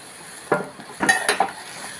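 Chopped tomatoes sizzle in a hot pan with onions, broken by a few sharp clinks and scrapes of stirring.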